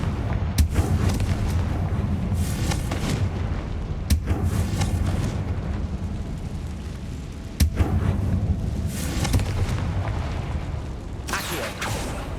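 In the video game Hogwarts Legacy, the Confringo blasting spell sets off several sharp explosive booms at intervals over a steady rumbling game background.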